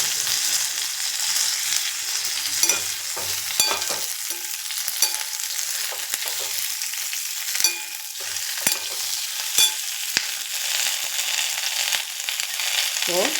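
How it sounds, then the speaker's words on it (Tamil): Karpuravalli leaves fry in a hot pan, a steady bright sizzle and crackle with scattered stirring scrapes and pops, close and continuous with no talk. "கற்பூரவள்ளி இலை போட்டுடலாம்."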